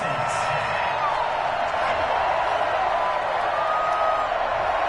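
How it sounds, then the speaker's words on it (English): An American football crowd at a GFL Nighthawks vs Pioneers game reacts to a penalty flag on a third-down incompletion, a loud, steady stadium roar holding throughout without a break. "Well, the crowd doesn't like that."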